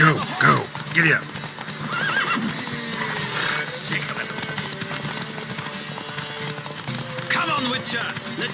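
Hoofbeats of a horse galloping in a race in The Witcher video game, a steady clip-clop with whinnies near the start, mixed with game voices and background music.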